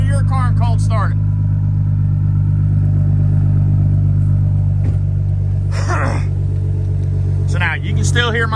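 An Audi A4 with a straight pipe exhaust idles with a loud, deep, steady droning rumble, heard up close, while people talk briefly over it at the start and near the end.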